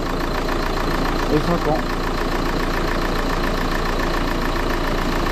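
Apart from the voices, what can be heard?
Renault 1.5 dCi diesel engine running after timing belt change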